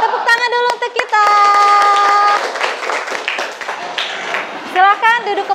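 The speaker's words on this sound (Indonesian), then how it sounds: "Tepuk tangan dulu untuk kita." A classroom of children claps hands together in a burst of rhythmic clapping, with young voices calling and chanting loudly over and between the claps.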